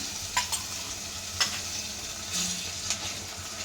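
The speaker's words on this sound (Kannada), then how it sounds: "ಚೆನ್ನಾಗಿ ಮಿಕ್ಸ್ ಮಾಡಿ ಅದೊಂದು ಸ್ವಲ್ಪ ಹಸಿ ವಾಸನೆ ಹೋಗೋವರೆಗೂ ಫ್ರೈ ಮಾಡ್ಕೊಳ್ಳೋಣ." Ginger garlic paste fries in a pan with a steady soft sizzle, broken by a few spoon scrapes and taps as it is stirred, and no voices.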